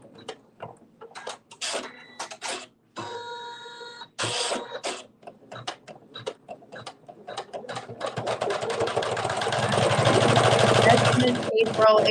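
A computerized sewing or embroidery machine stitches tack-down and detail stitching on a mystery quilt block, with fast mechanical stitching bursts that build into a steady whir. Speech can be heard alongside it.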